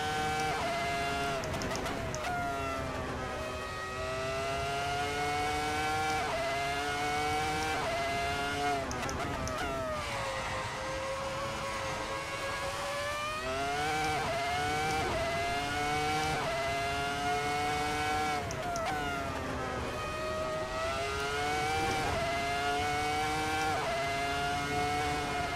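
In the Assetto Corsa video game, a Ferrari SF70-H Formula 1 car fitted with a swapped-in V10 engine screams continuously at high revs, its pitch rising and dropping sharply through quick gear changes, loud and close throughout.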